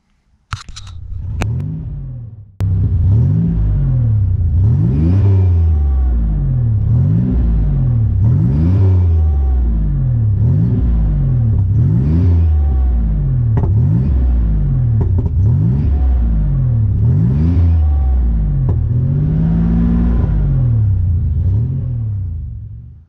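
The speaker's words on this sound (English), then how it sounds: "just free revving it" A Nissan Navara with a VG30 engine starts with a crank and catch, then free revs in repeated loud, rhythmic blips, each rising and falling, about a dozen in a row close to the listener.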